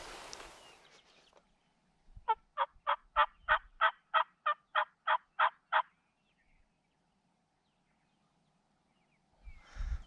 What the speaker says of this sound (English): They're still gobbling down here.